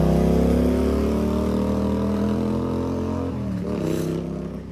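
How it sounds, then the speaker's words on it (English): Motorbikes roaring past nearby, a loud sustained engine drone that shifts in pitch as they pass and slowly fades. "Always with the bikes making the noise."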